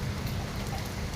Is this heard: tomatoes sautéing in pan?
no